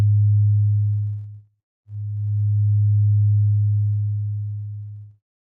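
A synthesizer emits a low, pure sine tone in two sustained bursts separated by a brief gap, clean and steady with nothing else audible.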